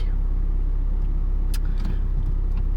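A car with a worn, tired clutch rumbles along the road, a steady low engine drone filling the cabin with a few faint clicks and rattles on top.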